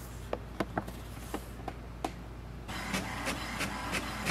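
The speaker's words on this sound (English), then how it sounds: "Here we can see it has printing." An HP Smart Tank 7300 printer printing a document: a run of soft clicks and ticks, then a steadier whirring feed of paper, fairly quiet and close.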